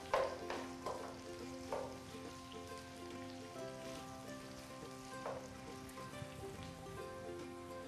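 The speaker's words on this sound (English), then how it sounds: "I'm going to give a stir." Chicken teppanyaki with vegetables frying in a pan, a steady close sizzle with occasional scraping stir strokes, no talking.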